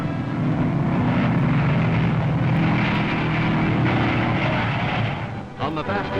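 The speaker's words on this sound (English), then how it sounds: "The green flag drops and they're off to a roaring start." Dirt track race car engines roar together at the start of a speedway race on a mile track, a dense, loud, continuous mechanical rumble that holds steady before easing slightly near the end.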